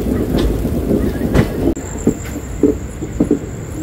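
The Guntur–Secunderabad Intercity train rolls past on an Indian railway line with a low rumble and rhythmic clickety-clack of wheels over rail joints, joined halfway through by a thin, sustained high-pitched wheel squeal.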